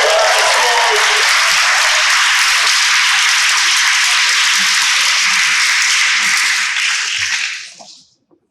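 Loud, dense audience applause for a poet at an adult poetry slam in New Haven, sustained for about seven seconds before tapering off quickly, with a few scattered claps at the end.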